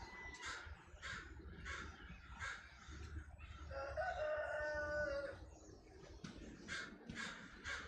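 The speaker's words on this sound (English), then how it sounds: "We got a murder of crows in the yard now." Several crows caw repeatedly in a yard, harsh calls in bursts with a rooster-like crowing stretch midway, fairly near and loud over steady outdoor background.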